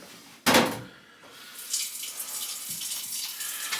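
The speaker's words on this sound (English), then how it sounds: "So we're going to fill our pan with water." Water gushes from a tap into a pan after a brief clunk, a steady close splashing stream that fills the quiet room.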